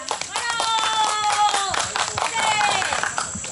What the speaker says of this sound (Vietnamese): xin chúng ta tiếp tục có một tràng pháo tay giòn giã để cổ vũ cho tất cả những tiết mục vừa rồi ạ.